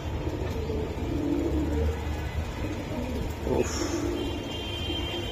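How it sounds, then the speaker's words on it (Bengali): Sarasari line Giribaj racing pigeons, flown in 75 km races, coo softly in low, intermittent bursts over a steady background rumble. "সারাসারি লাইনের কবুতর"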